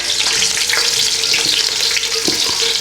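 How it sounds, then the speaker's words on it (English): Mild green chilies and a couple of small chilies sizzling in hot oil over low to medium heat as the base for a lamb kofta and potato curry, a steady close crackle with occasional stirring. "You can see that sizzling away there."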